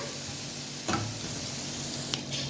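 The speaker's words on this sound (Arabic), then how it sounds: "هشوح بس الثوم شويه" Garlic sautéing in a pan gives a soft, steady sizzle, broken by a couple of faint clicks and clinks close by, with no talk over it.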